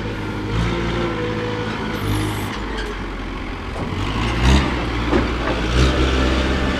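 A truck driving up a ramp into a trailer, a steady low engine rumble with rising revs and a few heavier thumps, loud and close throughout.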